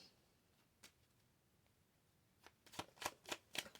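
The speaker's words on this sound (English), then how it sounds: "A little hard to shuffle" Tarot cards being shuffled by hand, a faint riffle early on, then a quick run of crisp, close riffling bursts building toward the end, with no talking.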